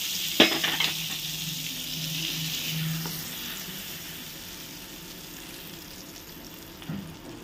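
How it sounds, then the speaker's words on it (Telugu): Hot tempering (popu) poured over instant tomato pickle, a sharp crackling burst followed by a steady sizzle that fades gradually, with a brief clatter near the end. "మనకి పోపు వేసేస్తున్నాను నేను."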